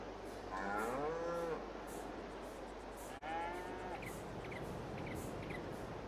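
Cows moo in a Farming Simulator 22 farm scene: two drawn-out bellows a couple of seconds apart over a steady low engine-like hum, with faint bird chirps in the background.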